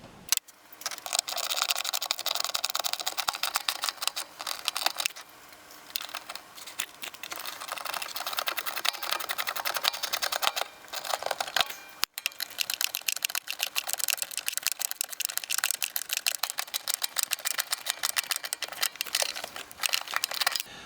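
A ratchet tightens the mounting bolts on a car's heater blower motor resistor. Rapid, continuous clicking runs close up through nearly the whole stretch, with only brief pauses.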